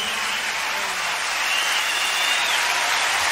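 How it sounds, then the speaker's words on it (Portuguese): A concert audience claps steadily and densely throughout, a broad wash of applause with a faint voice carrying over it. "Obrigado pelas palmas."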